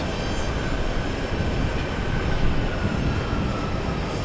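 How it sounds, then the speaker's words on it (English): A Japan Airlines jet arrives on runway 22 left at JFK, heard as a steady, broad engine roar with faint rumble, holding level throughout and swelling slightly midway, no voices present. "Japan Airlines 6 arriving right on time."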